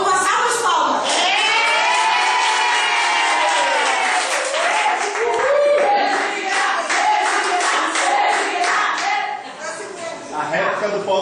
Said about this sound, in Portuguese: Vamos passar as palmas